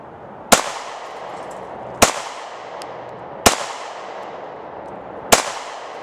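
Gunshots aimed at a 1 lb propane canister outdoors: four sharp loud cracks spaced about 1.5 seconds apart, each ending in a short fading ring, and quiet ambience between them.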